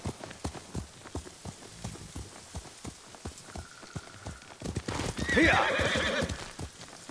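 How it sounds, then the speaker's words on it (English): Horse in the video game Ghost of Tsushima trotting with quick, regular clip-clop hoofbeats close by, then a loud neigh near the end. "Good horse, Noble."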